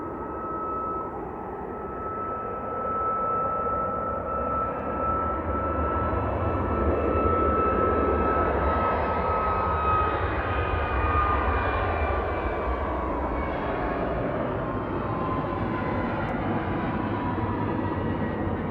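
A TUI airliner on approach to Manchester Airport passes as a smooth, swelling jet roar with a drifting high whine, building to a peak midway and then holding a steady rumble.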